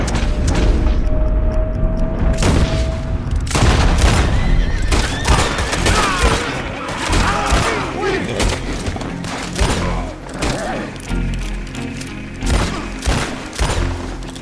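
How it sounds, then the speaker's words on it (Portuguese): Red Dead Redemption 2 gameplay carries booming gunshots and thuds amid a horse's whinny and game effects, loud and dense throughout, with players talking over the action. "Eu vi uns tiros vir ajudar, os malucos começaram a atirar em mim"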